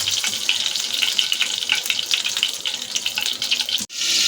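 Fish pieces fry in hot oil for a curry, giving a steady, close, crackling sizzle that stays dense throughout and is cut off abruptly near the end.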